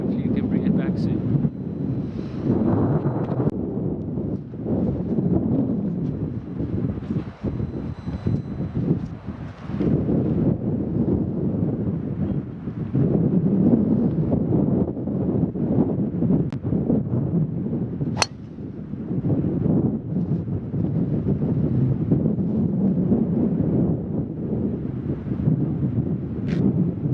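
Wind gusting across a golf course, a steady rough roar buffeting the microphone with rising and falling surges for the whole stretch.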